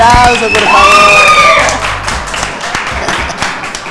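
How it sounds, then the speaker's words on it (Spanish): Audience applause at a live comedy talk show, a burst of clapping that swells quickly and stays loud, then tapers off as it continues, with a voice speaking briefly over the start. "Un aplauso, por favor."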